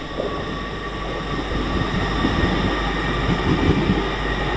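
A train passes on the East Coast Main Line at Doncaster station with a sustained rumble of wheels and carriages and a steady tonal hum. The sound is moderately loud and builds slightly toward the end.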